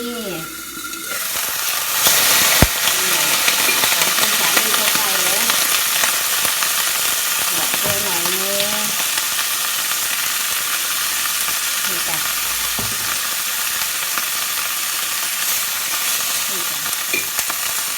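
Pork slices fry in a pan with a steady, loud sizzle and crackle throughout, with occasional clinks and scraping of a utensil stirring; a voice speaks briefly under the frying.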